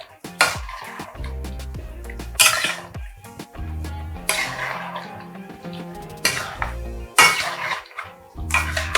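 A ladle scrapes and knocks against a pan as chicken is mixed with onion, garlic, ginger and tomato, giving loud irregular metallic clanks and scrapes close up, with no voices.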